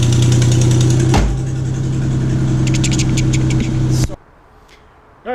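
A 2015 Infiniti Q50 fitted with an AEM cold air intake, running at light throttle: a loud, steady engine drone with induction noise that cuts off abruptly near the end.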